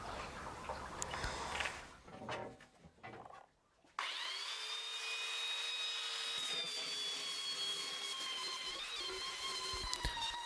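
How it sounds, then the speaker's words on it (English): A handheld jigsaw cuts through wooden board during a table and desk build, giving a steady, loud motor whine with a sawing rasp. It holds continuously for about six seconds after a brief quieter stretch of scraping and knocks. "I'm showing you this nice clip of someone with a jigsaw instead."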